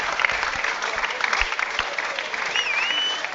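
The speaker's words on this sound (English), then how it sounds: "I'm not sure where that applause has come from" Crowd at a rugby league match between Sheffield Eagles and Whitehaven applauding, a steady spread of distant clapping from the stands with a faint whistle-like tone near the end.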